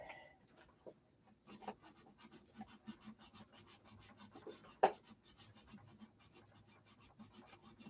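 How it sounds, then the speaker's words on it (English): Quiet, rhythmic scratching of sandpaper rubbed by hand on painted wood trim, steady short strokes repeating close by, with one sharp knock partway through. "Back to my favorite thing, sanding."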